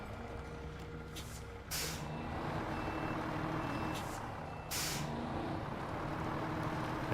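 Reversing beeps from a truck in the video game Snowrunner, set in Alaska, sound over a steady, low engine rumble. Two separate beep bursts come a few seconds apart, with no talking.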